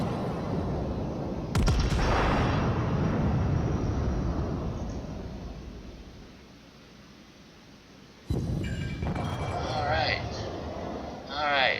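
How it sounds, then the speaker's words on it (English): Ranging shots from a Fuso battleship's main guns in World of Warships, two heavy booming salvos several seconds apart, each rolling into a long rumbling decay, with someone talking over the game sounds. "So I'll let go with a couple of ranging shots."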